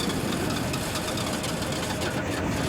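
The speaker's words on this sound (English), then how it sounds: "Try to start the engine." Lorry engine on a frozen Arctic highway being cranked for a start attempt, a steady, rough mechanical churn with uneven knocking that holds for a few seconds without catching, fairly close and continuous.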